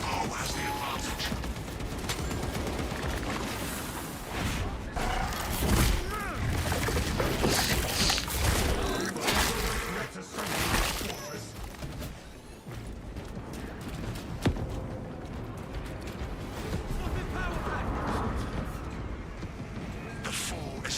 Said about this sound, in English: The last cannons have resumed firing.